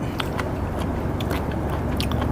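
Crunchy hoi pang clam, eaten blanched with a spicy dipping sauce, being bitten and chewed up close, with repeated soft crunches and wet chewing noises over a steady background hiss and no talking.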